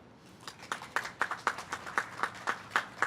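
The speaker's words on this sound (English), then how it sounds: "that, of course, deserves a round of applause" An audience at a Yonge BIA event gives a round of applause: a soft, steady run of distinct, evenly spaced claps from a few hands, fairly quiet and with no talking.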